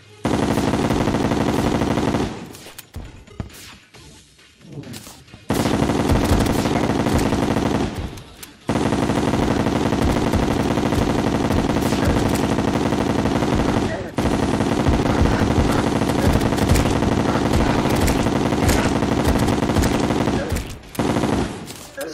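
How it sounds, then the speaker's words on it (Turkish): A weapon in Terraria fires continuously and loudly for long stretches, broken by a few brief pauses. "Silahın sesi çok fazla."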